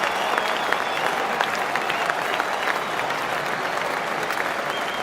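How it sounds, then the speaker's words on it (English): A packed crowd at Lord's cricket ground roars and applauds as Brian Lara walks out to bat in the MCC vs Rest of the World match, a dense, steady wall of clapping and cheering that fills the whole stretch without a break. "now listen to the roar as this man comes to the crease"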